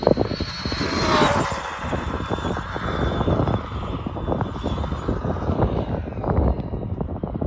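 An Arrma Big Rock RC truck on a stock motor running 3S races at full throttle down a long wet road, its high electric motor whine rising steadily in pitch over continuous road and wind rush, close and loud.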